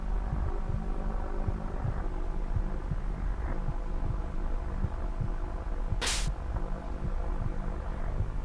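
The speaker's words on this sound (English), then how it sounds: "I hear heartbeats." Low rhythmic heartbeat thumps in the Pokemon Reborn video game, a steady pulse of soft beats under a continuous hum with a brief hiss burst midway.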